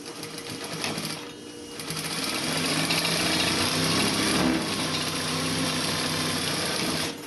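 A sewing machine runs steadily, stitching a flat felled seam with a 1/4 inch seam allowance; a continuous close, buzzing whir with fast rhythmic needle chatter that briefly eases near the start, then holds for several seconds without talk.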